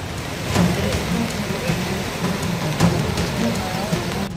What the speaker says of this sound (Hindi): उत्तर प्रदेश के कई जिलों में भारी बारिश हो रही है।